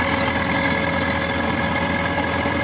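A 55-year-old Zetor 5511 tractor engine runs steadily at close range during field ploughing, producing a loud, even diesel drone with a constant throbbing rumble and no pauses.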